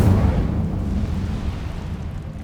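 The Incendio fire spell cast in Hogwarts Legacy gives a heavy, close burst of flame that opens loud and then fades into a low rumbling roar.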